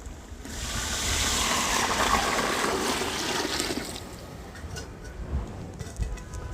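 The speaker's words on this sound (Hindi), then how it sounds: "पानी हम ऐड करें 6 लीटर।" About six litres of water poured into a cooking pot of fried chicken, a steady splashing pour that builds, then tapers off to trickles and faint clinks near the end.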